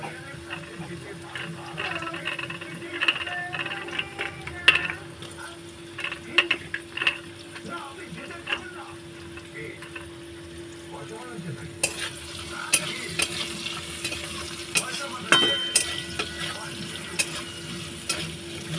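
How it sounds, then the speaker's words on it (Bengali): Carrots frying with potatoes in a pan while being stirred, a soft continuous sizzle broken by frequent scraping and clacking of a spatula, growing brighter and busier partway through, close by with no talk. "গাজরগুলো বেশ একটু নরম নরম হয়ে যাওয়া অবধি ভাজতে হবে।"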